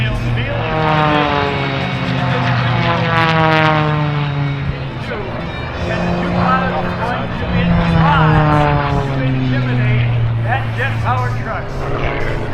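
Biplanes crossing the field at the Warriors Over The Wasatch air show at Hill Air Force Base: a loud, continuous propeller-engine drone with rising and falling pitch as the planes pass close by, one after another.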